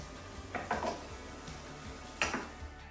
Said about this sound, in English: I'm going to throw in my cauliflower rice